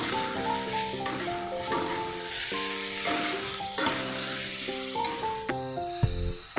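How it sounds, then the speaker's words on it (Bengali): Spices and salt for a Bengali tilapia fish curry tempered with nigella seeds sizzle and fry in a pan while being stirred, giving a continuous close crackle with scraping strokes. Soft melodic music plays underneath. "দিয়ে ভালো করে নাড়িয়ে কিছুক্ষণের জন্য কষতে দেবো।"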